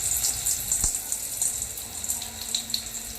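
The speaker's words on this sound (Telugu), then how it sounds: "మూత తీసి చూస్తే వాటర్ మొత్తం మరుగుతున్నాయి కదా." Water at a rolling boil in a pot for bagara rice, heard as a steady, close bubbling hiss with soft crackles and one brief low thump, no voices.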